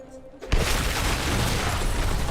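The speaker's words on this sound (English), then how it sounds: "See, that was a good run of explosions." Explosions in the video game Diablo IV: a sudden loud boom about half a second in, followed by a sustained dense roar of blasts and crackle that fills the rest of the moment.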